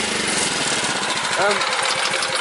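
A small petrol engine runs at high revs, a steady buzzing drone with a voice briefly speaking over it.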